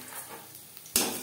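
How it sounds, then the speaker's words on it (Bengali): Pakoras deep-frying in hot oil give a steady low sizzle that swells into a louder burst of crackling near the end, with no voices over it. "পাকোড়া ভাজা হয়ে গেছে"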